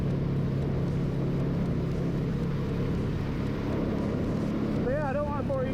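A 2017 Polaris Sportsman 570SP ATV engine running while riding, a loud steady drone mixed with wind rush, with a voice briefly speaking near the end.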